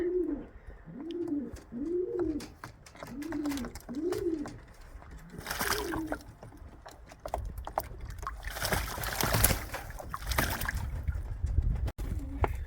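Pigeons coo outdoors on a freezing day, with five or six rhythmic low coos in a row, close by, then fluttering and rustling noises take over.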